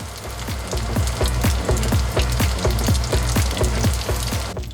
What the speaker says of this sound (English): Make sure you're frying on all sides for best results.